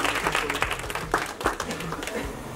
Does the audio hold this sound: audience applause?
yes